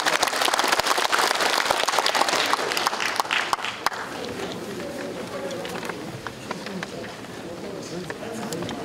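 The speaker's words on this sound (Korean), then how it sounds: "뜨거운 박수로 환영합니다." A hall audience at an ethics and morality convention gives warm welcoming applause, loud and dense for about four seconds before fading into a murmur of crowd noise and voices.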